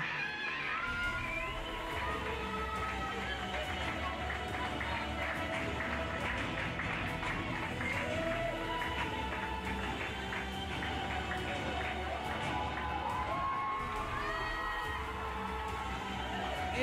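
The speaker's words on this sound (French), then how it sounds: "Et vous pouvez applaudir encore plus fort." An audience applauds the pony show-jumping podium at an award ceremony, a sustained, dense wash of clapping that runs steadily throughout with a low rumble underneath.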